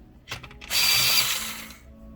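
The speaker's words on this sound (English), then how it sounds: "Oh my gosh, I'm so in love with that sharpener." A pencil sharpener grinds a pencil: a few short clicking turns, then a steady, close-up whirring rasp lasting about a second before fading out.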